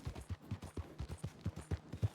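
Rapid gunfire from the Red Dead video game, a quick regular string of roughly a dozen muffled shots heard faint and distant, evenly spaced like automatic fire, with no talk over it.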